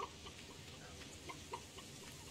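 Chickens cluck softly in the farming game Stardew Valley, a few short scattered clucks over a faint, quiet background.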